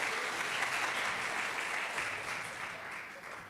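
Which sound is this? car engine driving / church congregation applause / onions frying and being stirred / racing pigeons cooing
church congregation applause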